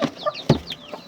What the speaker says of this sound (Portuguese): A galinha tá arrumando o ninho.